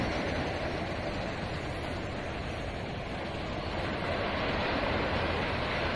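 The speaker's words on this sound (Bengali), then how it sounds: "উঁচু উঁচু ঢেউ আসছে হ্যাঁ, আসলে পড়ছে" Sea waves break on the beach in a continuous broad wash of surf, loud and close with wind buffeting throughout.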